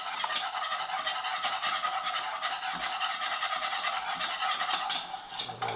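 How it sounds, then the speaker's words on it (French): Wire whisk stirring lemon cream in a saucepan in figure-eight strokes, scraping the pan as it thickens: a steady, continuous close scraping and swishing without pause, with no voices. "Très important pour bien racler toute la casserole, toujours faire des 8 avec le fouet."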